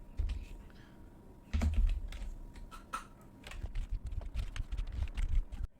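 Close, irregular clicks and clacks from a computer keyboard as JavaScript code is typed, coming in quick bursts with short pauses between.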